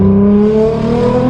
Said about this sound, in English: you can hear the blow-off valves, you can hear the exhaust